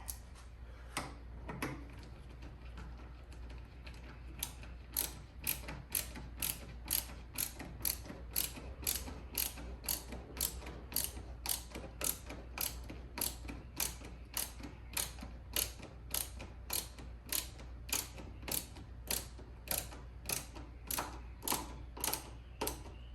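A ratchet clicks in a fast, even series as a bolt is screwed back into the air box of a 2022 Dodge Charger GT during a Hellcat air box conversion. The ticks are crisp and close over a low background hum.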